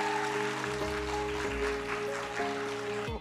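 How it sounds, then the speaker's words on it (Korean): An audience applauds at a Korean filmography talk event featuring actor Kim Nam-gil, steady broadband clapping running for about three seconds over sustained background music, with no speech. "여러분 박수 부탁드리겠습니다."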